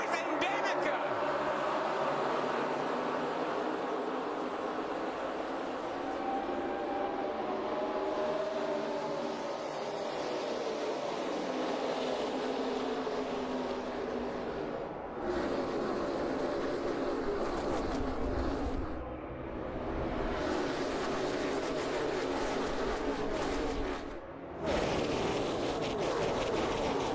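NASCAR stock cars racing in the opening lap of the 2012 Daytona 500 make a continuous broad engine roar with passing surges, heard under steady race commentary.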